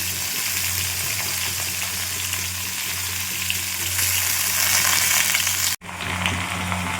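Mixed vegetables frying in a small wok over a gas flame, a steady loud hiss and crackle with a low hum beneath, briefly cut off near the end before resuming.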